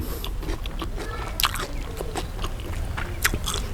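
Close chewing and crunching of spicy pounded bean salad with pickled vegetables, soft wet bites and occasional sharper crunches repeating steadily, with a faint murmur in the background.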